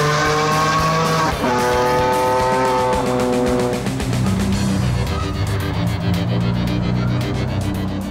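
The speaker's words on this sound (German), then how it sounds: "Und wenn Rocco mal ein klein wenig aufs Pedal tritt, fliegt in Bayern die Lederhose weg" Mansory-tuned sports car revving hard and accelerating, a loud engine note climbing through the gears with a sweeping pitch rise before settling into a steady roar, close and continuous throughout with no voices.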